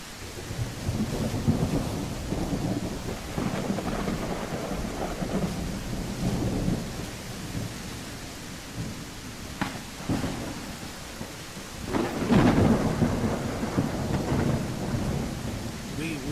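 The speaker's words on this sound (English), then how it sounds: "Nighttime plus storm" Night thunderstorm in a dinosaur survival video game: steady rain with repeated rolling thunder, loud sharp cracks near the middle and end, and rumbling underneath throughout.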